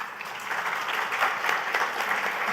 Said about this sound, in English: I didn't expect to get a clap for that